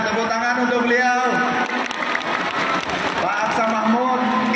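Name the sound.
audience applause at a political rally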